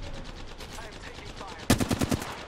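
Automatic gunfire in the video game Apex Legends: a short rapid burst of about seven shots near the end, over quieter background game sound.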